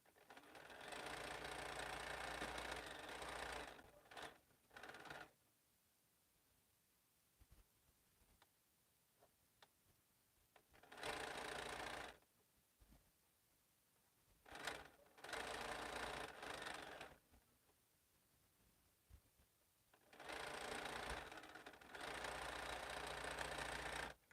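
Sewing machine stitching seams on quilt blocks, heard as several separate bursts of close mechanical whirring and ticking, each lasting a few seconds, with quiet pauses between them.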